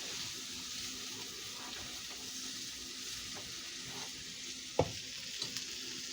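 Potatoes and onions frying and browning in a pan make a soft continuous sizzle, with one sharp clink of a utensil partway through and a couple of fainter taps after.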